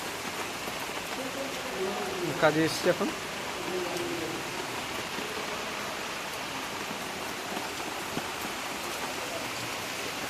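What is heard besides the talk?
heavy rain falling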